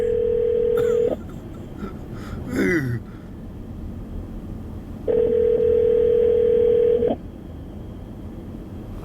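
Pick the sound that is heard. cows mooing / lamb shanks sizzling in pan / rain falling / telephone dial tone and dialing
telephone dial tone and dialing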